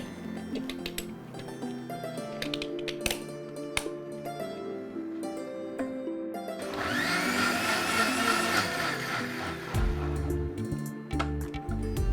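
A blender mixes a millet drink again after ice cubes are added, building to a loud, steady whirring roar with a rattling, churning edge that stays close and continuous.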